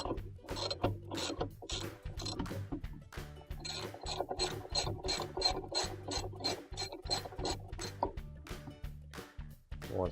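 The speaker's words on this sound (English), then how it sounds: "we're going to take our ratchet with our 7/16 bit, and we're going to take out the screw here" A ratchet fitted with a 7/16 bit loosens the agitator screw of a washing machine, giving rapid repeated clicking bursts with brief pauses, close and clear.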